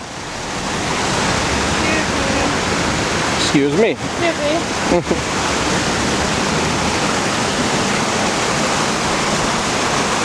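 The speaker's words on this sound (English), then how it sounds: "Look at this waterfall they got here." A waterfall on the San Antonio River Walk in Texas roars as a loud, steady wash of falling water, with a person briefly speaking over it.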